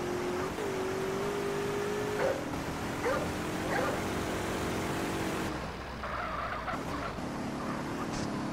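A small dog barks and whimpers in the GTA San Andreas video game, yelping over a steady engine drone, with a few short cries rising above the background noise.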